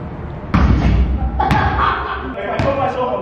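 Basketball shot with the ball thudding on the court or rim and bouncing, a few heavy thumps spaced apart, under ongoing talk nearby.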